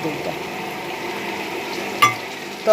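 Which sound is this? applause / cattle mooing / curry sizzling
curry sizzling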